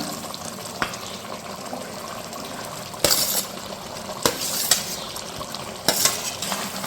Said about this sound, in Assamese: তাৰপিছত এতিয়া ইয়াতে বিলাহী দিম